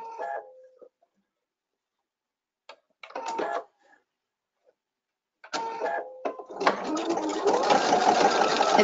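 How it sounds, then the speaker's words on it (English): A Viking/Pfaff sewing machine stitching around circular embroidery on a circular attachment, short bursts of whirring stitches followed by a loud, continuous mechanical hum at the end, close up, with a voice speaking briefly at the start. "It's going to stitch right where you were before on your circle."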